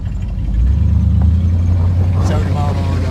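A 1948 Plymouth Special Deluxe hot rod with Mustang front suspension cruises along, its engine a steady low rumble throughout under road noise, with a voice speaking over it.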